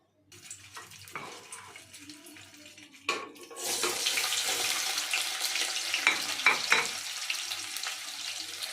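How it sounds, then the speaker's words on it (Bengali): Paneer cubes drop into hot oil in a kadai, a few clattering thumps followed by a rising, steady close-up sizzle with occasional sharp pops. "লাল লাল করে পনিরটা একটু হালকা করে ভেজে নেব।"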